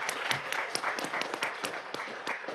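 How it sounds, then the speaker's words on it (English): Applause fills a Mobile County Commission meeting as the audience welcomes visiting students, dense steady clapping that holds at a fairly even level throughout. "Let's give them a round of applause to welcome them."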